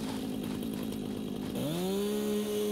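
A chainsaw in the video game Satisfactory drones loudly and steadily, then its pitch swoops upward and holds at a higher, sustained rev, with no voices present.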